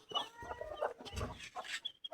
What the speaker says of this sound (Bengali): মুরগি আল্লাহ দিলে ভালোই আছে, 3টা মুরগি